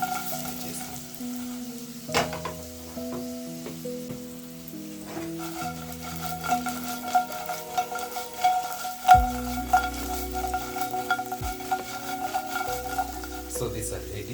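Pan-roasted potato wedges with dried rosemary toast in a pan, a low continuous sizzle with frequent stirring scrapes and light clinks of a utensil, steady and close throughout, with background music.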